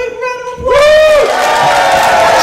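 Crowd applause and cheering at a kapa haka festival in the Southern Region erupt suddenly after a brief sustained tone, then hold as a loud, dense roar to the end.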